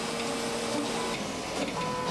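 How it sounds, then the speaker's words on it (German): A combined scanner, printer and colour copier prints with a steady, loud mechanical whir and faint rhythmic clicking, continuous throughout with no voices. "Relativ neu sind sogenannte Kombigeräte, die in einem Gehäuse Scanner, Drucker und Farbkopiergerät vereinen."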